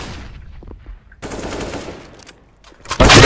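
Gunfire in the video game CS:GO: scattered shots and bursts of automatic fire, loud and close, ending in a sharp, sustained volley.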